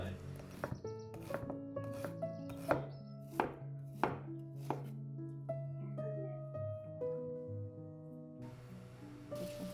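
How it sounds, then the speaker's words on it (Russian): A knife finely chops a shallot on a board while chicken meatballs are being made, giving a run of sharp, evenly spaced strikes that quicken and then stop, fairly quiet over soft background tones. "А мы с вами быстренько нарежем лук."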